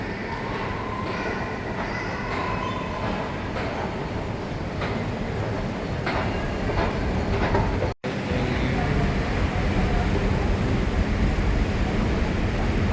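A Jakarta MRT train runs on its rails with a steady, loud rumble and faint clicking wheel noise. Voices murmur underneath, and a brief dropout breaks the sound partway through.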